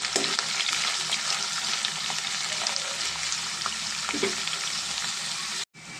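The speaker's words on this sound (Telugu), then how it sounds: "దీంట్లో ఉల్లిపాకులు వేసేద్దామండి బాగా ఫ్రై అవ్వాలి కలుపుతున్నామండి" Onions and curry leaves frying in hot oil in a pan for a potato-tomato curry, a steady close sizzle with scraping stirs, ending in a sudden brief dropout.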